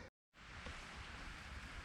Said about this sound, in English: It's raining right now here in Texas, which is a good thing.